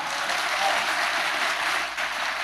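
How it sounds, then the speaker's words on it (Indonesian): An audience at an Indonesian comedic religious talk breaks into brief, dense, loud applause, an even wash of clapping that runs without a break. "Tepuk tangan untuk kompak."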